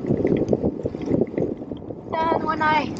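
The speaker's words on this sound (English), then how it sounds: "It's a little bit more windy" Wind rushes and buffets against the microphone during a road bike ride on the Arakawa cycling road, a steady gusty roar, with a brief tonal whine rising near the end.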